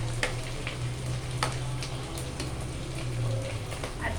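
Ginger paste sputters in hot oil, a soft, fairly faint sizzle with a few scattered pops over a low steady hum.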